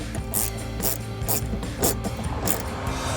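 A ratchet wrench tightens a 7 mm bumper bolt on a 2014–2015 Camaro with a rapid, close, steady clicking of the pawl over a few seconds.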